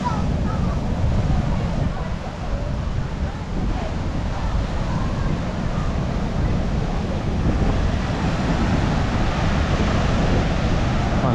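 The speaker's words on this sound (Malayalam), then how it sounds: "നല്ല രീതിയിൽ തിരമാല ഉണ്ട് കേട്ടോ." Ocean waves at Valiyaparamba beach make a steady, loud roar of surf that fills the whole stretch without pause, mixed with wind buffeting the microphone.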